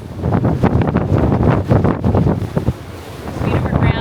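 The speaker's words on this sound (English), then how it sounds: "we have got some very serious wind and current pushing us towards land." Strong wind buffets the microphone aboard a boat at sea, pushed by heavy wind and current toward land, a loud continuous rushing roar with water wash and gusty swells throughout.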